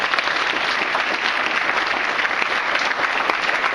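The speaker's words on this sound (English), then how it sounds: "Give a round of applause to these candidates up here." Sustained applause from a crowd at a congressional candidate forum, dense and steady clapping filling the whole stretch.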